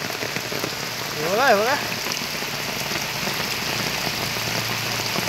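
Heavy rain falls at the foot of a hill in a constant, close hiss, while a voice speaks briefly early on.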